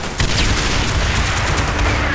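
A rapid volley of gunfire in the video game Call of Duty: Black Ops, shots rattling off in quick succession, loud and close with no pauses.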